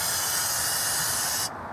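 Spray paint hisses from a rattle can fitted with a spray handle while coating parts of an abandoned arcade cabinet under repair: one steady, close, loud hiss lasting about a second and a half, then cut off sharply.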